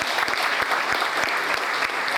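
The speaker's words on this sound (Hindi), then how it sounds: "एक बार तालियां बजाओ दोबारा हमें" A room full of attendees at a motivational workshop in a Pune college claps steadily, a dense wash of hand claps with a few sharper individual claps standing out near the front, with no talking.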